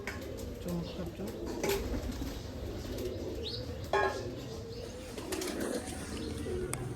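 Pigeons coo softly in an aviary, joined by occasional wing flaps and chirps amid light background noise.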